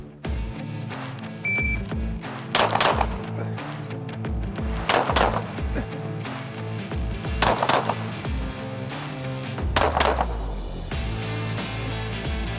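Gunshots fired at competition targets during outdoor shooting practice on a muddy range, several sharp loud cracks coming in quick pairs and clusters with brief pauses between, close to the listener and without talk.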